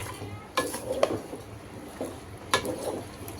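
Chicken pieces going into a pan of biryani masala and being stirred, heard as a few distinct scraping and clattering strokes of a utensil over a low, steady sizzle, close and without speech.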